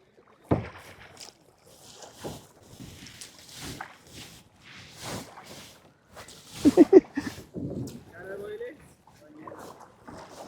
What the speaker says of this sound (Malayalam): അപ്പോൾ നമ്മൾ കയാക്കിൽ പോയിക്കൊണ്ടിരിക്കുകയാണ്